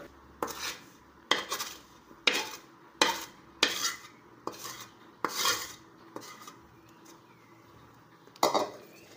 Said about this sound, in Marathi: आता ही पाक आहे का नाही हे आपण त्या ताटात ओतून घेऊया